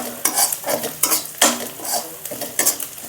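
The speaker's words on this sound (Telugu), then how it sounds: "కొంచెం వెల్లుల్లిపాయలు, దంచిన వెల్లుల్లిపాయలు వేస్తున్నాను. ఇలా కొంచెం లైట్గా ఫ్రై అవ్వాలి." Crushed garlic added to frying onions in a pan for an Andhra-style amaranth leaf and moong dal fry, with a utensil stirring and scraping in quick repeated strokes over a light sizzle, close and fairly loud.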